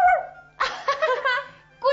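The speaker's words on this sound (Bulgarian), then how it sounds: "Куче!" A dog barks in a few sharp bursts amid a children's story about a witch's potion, the barks loud and close with short pauses between them.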